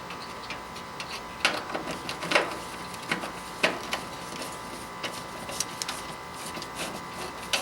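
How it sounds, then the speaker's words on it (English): Screws being fastened down on the burner assembly of a Napoleon gas grill during maintenance: a string of sharp, irregular clicks and ticks of metal tool work, close by, over a steady background hum with no talk. "And finish fastening down the screws."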